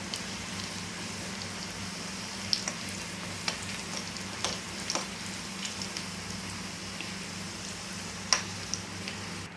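Spices tempering in hot oil for a sardine fish curry, a steady close hiss of sizzling dotted with scattered sharp pops and crackles, with no voices.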